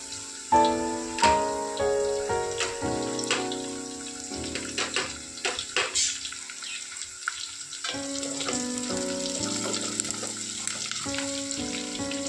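Curry leaves hit hot oil for tempering a brinjal and pakodi curry, giving a crackling sizzle with sharp bursts near the start that settle into steady frying under background music.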